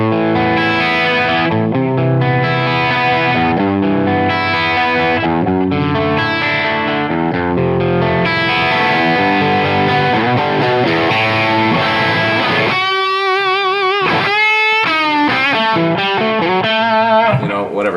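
Electric guitar run through an overdrive pedal with the drive set high, pushing the amp into a boxy, gritty tone; chords and riffs ring loudly throughout, then give way to bright lead notes and bends near the end.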